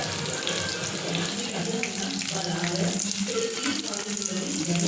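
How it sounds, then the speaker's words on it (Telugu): Chicken pakoda pieces deep-frying in hot oil give a steady, dense sizzle and crackle that stays loud and even throughout, with no voices. "బాగా రోస్ట్ చేసుకోండి, అదే ఫ్రై చేసుకోండి"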